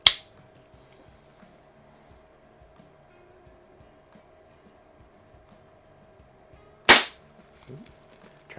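A Benjamin 132 air rifle fires two sharp, loud cracks about seven seconds apart, with quiet faint handling noise in between.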